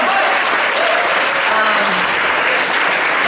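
A university crowd at a political rally in Sioux Falls claps and cheers in a dense, continuous wash of applause, loud and sustained throughout.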